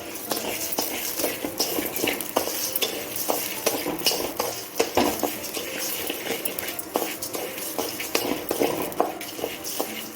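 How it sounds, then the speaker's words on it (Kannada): Continuous dry scraping and rattling of rice grains dry-roasted in a pan for kuchalakki laddu, with frequent sharp clinks of a spoon against metal, close and steady. "ನಾನು ಇಲ್ಲಿ ಅಕ್ಕಿನ ಹುರ್ಕೊಳ್ತಾ ಇದ್ದೀನಿ ಬಾಣಲೆಗೆ ಹಾಕಿ ಇದನ್ನು ಚೆನ್ನಾಗಿ ಹುರ್ಕೋಬೇಕು"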